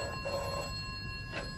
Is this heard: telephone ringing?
yes